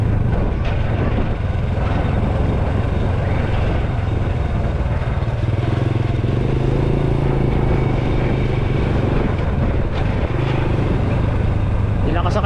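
A motorcycle carrying two women rides along a rough mountain road in the Sierra Madre near Metro Manila, giving a steady engine drone buried in heavy wind rumble, with muffled voices underneath.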